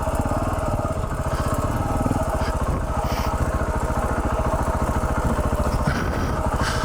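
A KTM 690 Enduro dual-sport motorcycle climbs over mountain bedrock, its single-cylinder engine chugging in a steady, close, loud pulsing beat with rattling clatter throughout.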